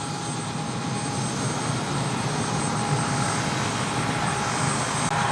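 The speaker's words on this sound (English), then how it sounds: "And there's the helicopter." A steady, droning helicopter engine hum with a low rotor churn holds even throughout, no voices present.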